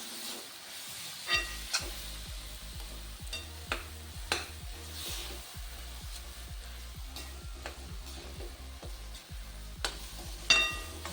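Brinjal bharit sautéed in a pan over a medium flame: a soft continuous sizzle under a regular rhythm of spatula scrapes and taps, close and fairly quiet, with a louder clatter near the end.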